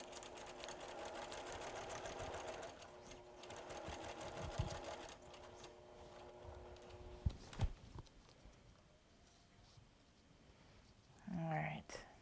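A sewing machine stitches through paper-pieced quilt blocks in bursts of steady whirring that stop and start, fairly quiet and close, with brief handling knocks and a short voice near the end.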